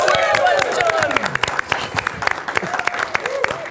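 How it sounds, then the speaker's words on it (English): A studio audience applauds and cheers as contestants are introduced on a live comedy game show in St Kilda, with steady sharp clapping and whoops, and a voice talking over the start. "Give them a round of applause"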